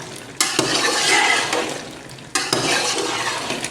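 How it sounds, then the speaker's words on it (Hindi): Potatoes stirred into eggplant frying in a pan, a loud scraping stir and a burst of sizzling that swells, eases, then flares again midway, with no voices. "आलू शामिल कर रहे हैं, मिक्स कर लेने एक दफ़ा"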